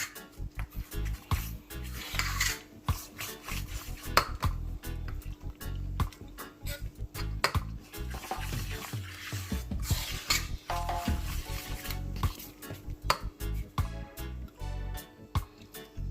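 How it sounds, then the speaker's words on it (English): Jamaican plantain pancake waffle batter made with almond milk is stirred in a bowl, a close, wet, irregular churning and squishing with rapid scraping strokes that continues throughout. "So we're stirring."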